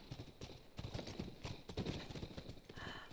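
Horses in The Last of Us, with the quiet, steady clip-clop of hooves and faint snorting heard close by in a game scene.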